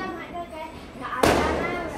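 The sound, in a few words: firecrackers going off during Diwali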